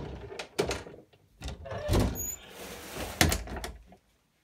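A cluttered drawer of plant supplies being pulled open, giving several close knocks and sliding scrapes with rattling contents, then a final bump before it goes quiet, with no voices.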